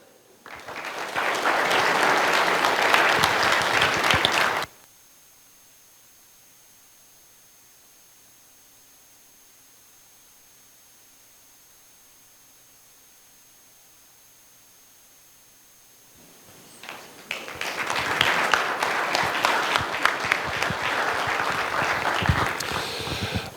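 A small audience at a Citizens' Academy graduation claps in two loud bursts separated by a long near-silent gap, the applause dense and close each time.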